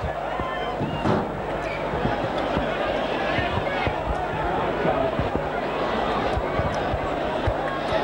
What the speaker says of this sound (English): the referee getting the slow hand clap